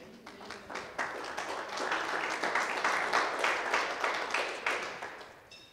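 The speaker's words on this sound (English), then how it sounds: "I'll take the applause" A lecture audience breaks into scattered clapping that quickly thickens into steady applause, moderately distant and a little soft, fading toward the end with no talk over it.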